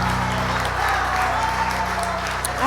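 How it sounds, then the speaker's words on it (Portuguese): A church congregation applauds through a worship service, with steady dense clapping over sustained music and voices. "aplauda o Senhor."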